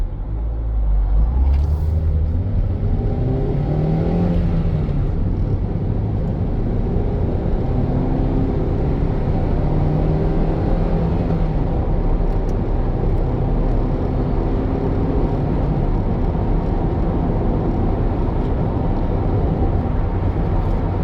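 Continuous low engine rumble and road noise from inside a moving second-generation Honda Jazz, steady and loud throughout, with no speech.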